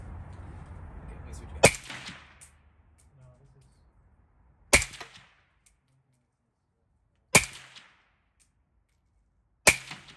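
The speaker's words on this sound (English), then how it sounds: "There is a suppressor on it, so it shouldn't be that loud of a bang." Four suppressed rifle shots from a Zastava M70 AK-47 (ZPAP) fitted with a titanium Dead Air Nomad LT suppressor, each a sharp crack with a short ringing tail, spaced a few seconds apart outdoors after some initial rustling noise.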